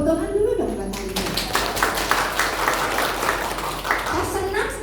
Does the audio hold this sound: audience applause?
yes